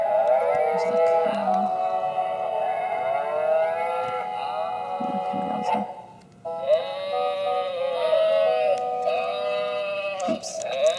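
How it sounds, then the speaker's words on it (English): A recorded cow moos loudly from an Usborne noisy farm sound book, two long electronic lows in close succession with a brief gap between them. "Here's the cow."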